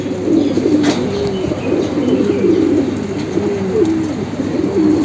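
Several Army pigeons coo continuously nearby in a steady run of low, wavering, rolling calls that overlap one another, with no voices.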